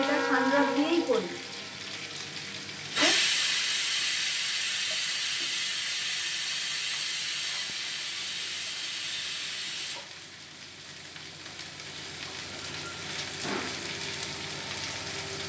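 Cauliflower frying in Sundrop oil for a cauliflower and carrot curry gives a steady, close hiss and sizzle that swells loudly for several seconds before settling back to a softer crackle, with a voice talking at the start.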